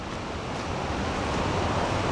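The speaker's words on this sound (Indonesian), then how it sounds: "Akhirnya kita sampai juga di air terjun Batulantang" Rushing water from Batulantang waterfall fills the air as an unbroken, full-bodied roar, near and fairly loud, holding level from start to finish with no voices over it.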